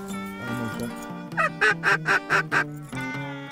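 Ducks calling with a series of sharp, rhythmic quacks in quick succession, loud and close, following some lower honking calls.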